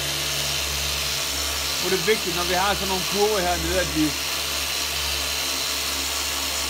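A car polishing machine spins its pad on freshly painted, soft automotive clearcoat, a steady low mechanical hum running throughout while a person speaks over it.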